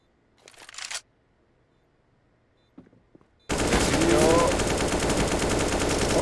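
Sustained automatic rifle fire sprays in a CS:GO Premier Division match, a dense, continuous rattle of rapid shots lasting several seconds after a quiet stretch with a couple of faint bursts.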